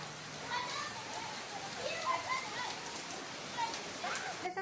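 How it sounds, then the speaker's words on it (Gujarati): Light, gentle rain falls in a soft, steady patter, faint overall, with children's voices and chatter mixed in. "હાવ ધીમો વરસાદ આવતો હતો"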